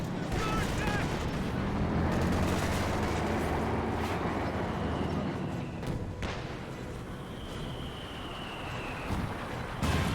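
Mortar fire and Sherman tank gunfire from a Company of Heroes 2 battle, heavy booms and thuds blending into a dense, continuous roar of distant combat, with a high whine streaking across near the end.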